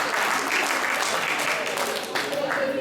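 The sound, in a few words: audience applause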